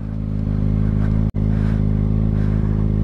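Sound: motorcycle revving while doing a wheelie

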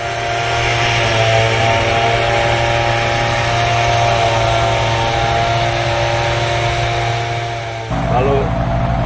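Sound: motorized tea plucking machine cutting tea leaves on plantation

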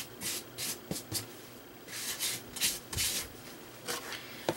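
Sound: brushing eraser shavings off paper into a trash can

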